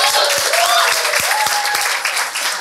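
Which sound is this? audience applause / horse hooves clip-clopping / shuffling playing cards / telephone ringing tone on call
audience applause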